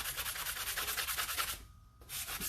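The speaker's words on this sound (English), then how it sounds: "I'm going to start to sand my tumbler. So when I first start sanding, I start with the rougher side." Sandpaper rubbed briskly over a glittered epoxy tumbler, rough grit first, a quiet rhythmic scratching in quick back-and-forth strokes that pauses briefly and then resumes.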